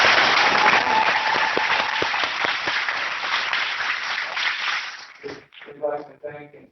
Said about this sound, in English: We would like a round of applause for Richard Mack tonight.